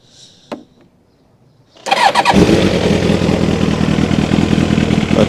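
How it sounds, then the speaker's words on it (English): A Kawasaki ZX7R sport motorcycle, partway through a rebuild, is cranked and catches after a brief starter blip, then settles into a loud, steady idle with a rough, pulsing mechanical rumble close to the mic. "so I'm going to start up the bike"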